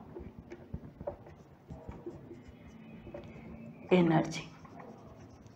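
A pen scratching across paper during a biology lecture, with short faint strokes and a brief louder scribble, all under a teacher's steady talk.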